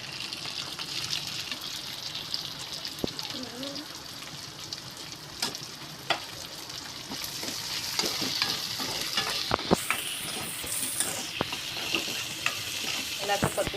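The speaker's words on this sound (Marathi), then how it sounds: "याला आता परतून घ्यायचं तेलामध्ये." Chopped green onion sautés in hot oil for a Chinese chicken chilli soup, giving a steady close sizzle and frying hiss broken by scraping stirs and clinks of a utensil against the pan.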